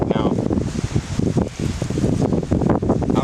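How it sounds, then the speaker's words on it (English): Strong outdoor wind buffets the microphone with a continuous low roar and gusty rustling beside a backyard grill. "out here, it's very windy right now"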